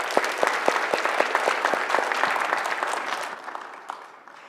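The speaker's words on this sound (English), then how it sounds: "let's give them a round of applause" Brief burst of applause from an audience, steady clapping that fades out toward the end, with no voices.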